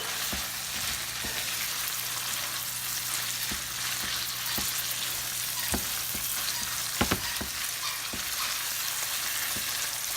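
Onions and tomatoes cooking in a pan for brisket tacos, a soft continuous sizzle with occasional light taps and stirring clicks, fairly quiet and with no talk.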